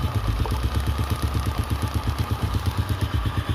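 A Honda Supra motorcycle engine idles close by with a steady, even low throb and a light mechanical tick, running smoothly without revving.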